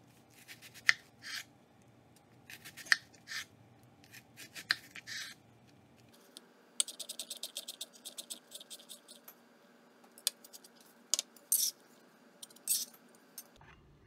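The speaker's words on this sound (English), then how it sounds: "Dice up a little onion in there." A knife dices onion on a cutting board for vegan BBQ stuffed mushroom caps, giving close, irregular sharp chopping taps with pauses, heard alone without talk.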